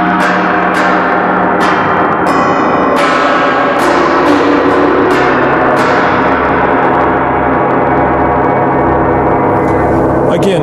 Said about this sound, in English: On the gong, you're going to get that really just percussive bright sound.